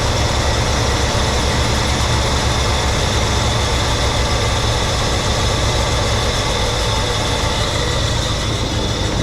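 A 1967 Pontiac Grand Prix convertible engine idles with a loud, steady, unbroken rumble that holds an even level throughout, with no voices over it.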